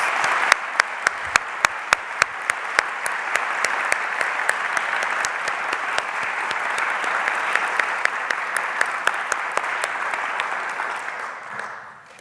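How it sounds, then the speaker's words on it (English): A convocation audience applauds steadily for about twelve seconds, a dense wash of many hands clapping at close range with sharp individual claps poking through, fading out at the very end. "let's give her another round of applause"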